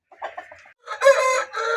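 An Aseel rooster of the Nellore line at a farm gives a loud, close crow with a rising, harmonic call that stretches across most of the clip, set apart from a few softer clucks heard first.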